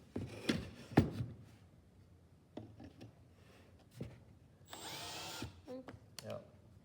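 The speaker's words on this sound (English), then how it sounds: "now put those screws in and see what happens" A power drill drives screws into soft pine wood during a bench build. There are a couple of sharp knocks, then one steady whirring burst of about a second near the end, with quiet talk around it.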